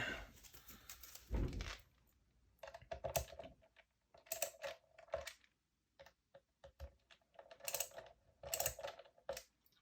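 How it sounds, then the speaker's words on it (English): A handy ratchet drives screws into a Warmoth pre-routed guitar body while a Vegatrem VT1 Ultra tremolo is fitted on a Freedomcaster build, giving quiet bursts of rapid clicking separated by short pauses. "I'm going to again use this handy ratchet."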